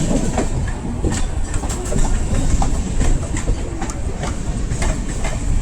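Mumbai Hyderabad SF Express train running on rails, with a steady loud rumble and a rhythmic clickety-clack of wheels over rail joints throughout.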